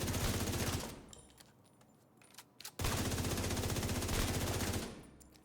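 Rapid automatic gunfire in a video game during headshot practice, two loud sustained bursts separated by a short quiet gap, with no talking.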